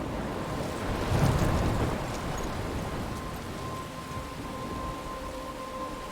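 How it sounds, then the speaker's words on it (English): Rain and storm wind in the video game Life is Strange make a steady, dense rushing wash that swells briefly near the start, with a faint tonal hum underneath and no thunder or talking. "I'm trapped in a storm?"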